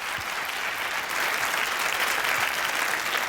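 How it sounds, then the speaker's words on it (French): A French television studio audience applauds after being invited to clap. The applause is loud, dense and continuous, swelling slightly midway, with no talk over it. "Vous pouvez nous applaudir, merci."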